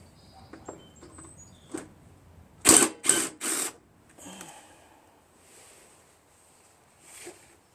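A cover being taken off a Craftsman 5.5 HP 26-inch OHV snow blower: scattered light metallic clicks, then three close, sharp rattling bursts in a row, followed by faint scraping in a quiet space.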